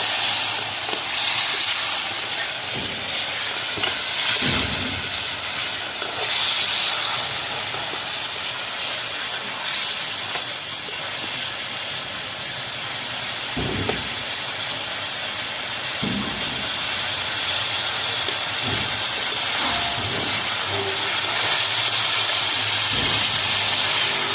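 Green banana curry hisses and sizzles loudly in a hot pan after a splash of water, a dense, continuous frying roar with a few soft clinks, no voices.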